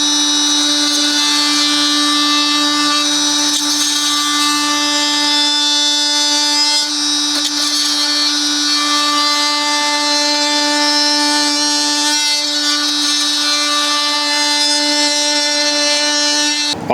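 An oscillating multi-tool cuts along the grain of a rotted timber windowsill, making a loud, steady high-pitched buzzing whine that holds almost unchanged from start to finish, close to the listener, with no talk.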